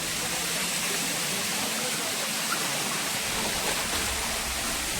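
Steady, dense rush of flowing water at Srikona waterfall, a continuous broadband roar with no clear breaks, fairly close and constant throughout.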